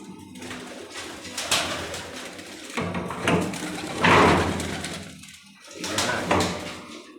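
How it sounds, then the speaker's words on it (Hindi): Pigeons coo in soft, throaty bursts, several rounds separated by brief pauses, close and fairly clear, with a faint knock or sliding sound in the background. "ये कबूतर आज उस्ताद अली के बैठे हैं, देखें माशाल्लाह"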